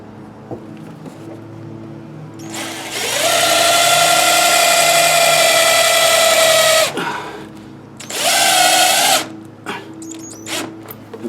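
A power drill drives screws through a mudflap into a vehicle fender, with two sustained high-pitched whirring bursts, a long one then a shorter one, close and loud, separated by brief pauses.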